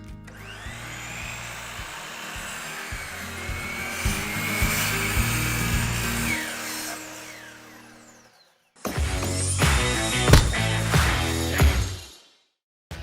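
Power saw cutting wood in a woodworking shop: a loud whining buzz with a low motor hum runs for about eight seconds, drops out briefly, then a second harsher cut lasts several seconds before winding down.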